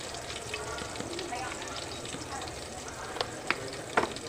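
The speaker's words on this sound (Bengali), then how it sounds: "পেঁয়াজটাকে একটু হালকা ব্রাউন কালার করে নিব" Onions frying in a pan hiss steadily up close, browning lightly. A few sharp spoon clicks against the pan come toward the end.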